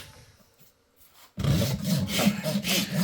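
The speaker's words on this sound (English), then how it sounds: "We're just getting rid of all that dead hoof in that sole." Farrier trims dead hoof from a sore horse's sole, a steady close scraping and rasping that starts abruptly after a near-silent pause and continues in a rough, rhythmic texture.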